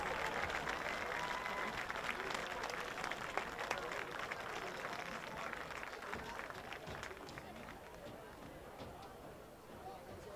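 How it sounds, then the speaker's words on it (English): Steady applause from a crowd at a high school football game, dense clapping that holds for the whole stretch and slowly fades a little toward the end. "Big round of applause for these champions."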